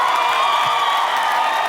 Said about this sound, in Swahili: Vigelegele sana, vigelegele sana